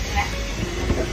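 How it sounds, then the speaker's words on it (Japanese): A Hokuriku Shinkansen E7/W7 series train arriving at Shin-Takaoka station in the rain, a brief rolling rumble with hiss and faint rail clatter, held steady and close. "列車は新高岡駅に到着をいたしました"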